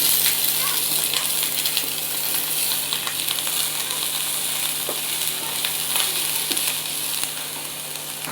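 Carrot and cabbage fry in a pan, a close, steady hiss of sizzling oil with occasional soft crackles and scrapes of stirring, fading slightly at the end.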